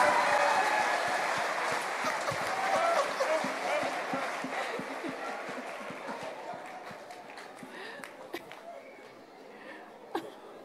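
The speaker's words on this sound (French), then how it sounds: "Give the Lord a round of applause." A church congregation in Vert-Saint-Denis claps together, a dense steady applause that is loudest at the start and slowly thins out, with scattered voices underneath.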